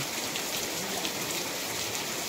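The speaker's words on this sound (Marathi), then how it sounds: "तरी पण पाऊस खूप पडत आहे" Heavy May rain falls on a village as a continuous, even hiss of downpour with no pauses and no voices.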